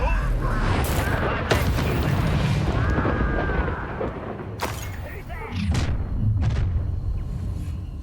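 A Confringo spell fires in the Hogwarts Legacy video game, giving a few booming blasts and sharp bursts over dense, constant combat noise.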